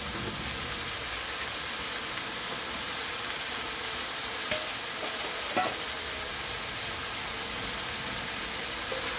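Spice masala sautéed in a pan, a steady low sizzle and hiss with a couple of faint scraping clicks from stirring, continuous and without voices.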